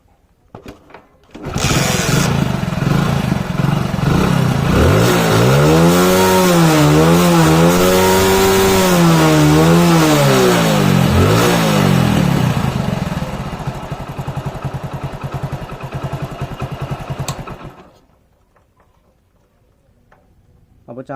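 A Hero Splendor motorcycle, fitted with a larger battery, starts and runs close by. The engine revs up and down several times, steadies at idle and then cuts off, leaving near silence.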